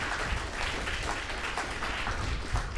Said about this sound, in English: If I get a round of applause for the people who are here tonight